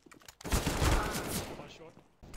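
A single loud, close gunshot in an online shooter game, with a sharp blast and a decaying rumble that lasts about a second before things quiet down.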